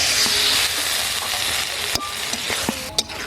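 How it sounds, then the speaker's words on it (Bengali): Water splashed into a hot pan of ripe but firm tomatoes sets off a steady, loud sizzle and hiss, with scattered crackles and pops. "অল্প একটু জল দিয়ে দিচ্ছি"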